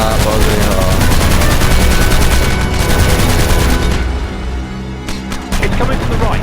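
Aircraft machine guns fire in the WWII-era flight game Aviators, a dense, continuous rattle of gunfire running loud throughout and dipping briefly near the end, mixed with game sound and talk.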